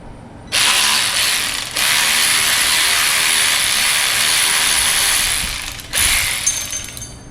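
A ratchet wrench working loose the starter bolts on a 1966 Plymouth Belvedere, rapid loud clicking in long continuous runs with short pauses between, close up and alone.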